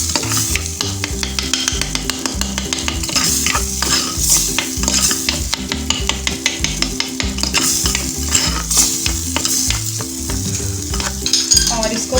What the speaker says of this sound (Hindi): ब्रेन को हम चम्मच की मदद से अच्छी तरह से मैश कर लेंगे।